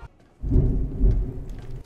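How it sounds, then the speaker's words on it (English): A thunderstorm with rain, a sudden deep rumble of thunder swelling in over steady rain noise and then lingering before tapering, heard close and fairly loud with no voices. "I love that thunderstorm I'm hearing outside."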